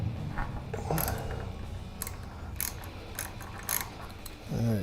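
Ratchet clicks and creaky metallic turning as a bolt is loosened on the fuel tank of a Kawasaki Vulcan 750 motorcycle, close by, with a short clunk near the end.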